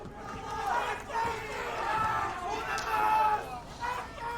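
A stadium crowd at a Valorant esports match between Cloud9 and Leviatan chants "uno mas" in a steady, swelling chorus that carries on without a break for several seconds.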